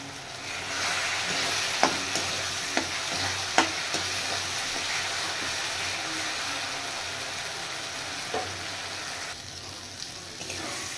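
Spice masala with chili powder is stir-fried in a pan, a continuous moderate sizzle with a few distinct scraping knocks from stirring, fading slightly toward the end.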